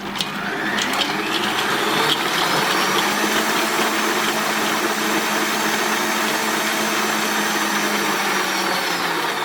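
Steady, loud whirring drone of an electric mixer beating frozen raspberries into cream, running continuously for several seconds after a brief rattle at the start, with no voices.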